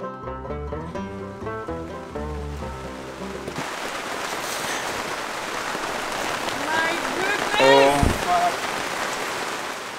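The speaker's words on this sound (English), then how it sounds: "Yeah, these days are a bit rainy." Steady rain falling outdoors at a stone house building site, a continuous soft hiss following a few seconds of music, with a louder splash near the end.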